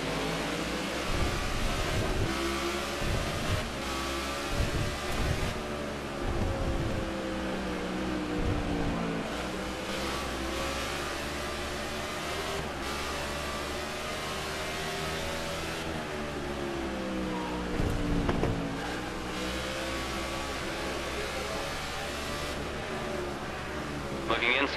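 Race car engines in the Xtreme Racing League sim at Infineon drone and sweep in pitch as cars brake into and power out of the last turn, a dense, steady layered roar running throughout.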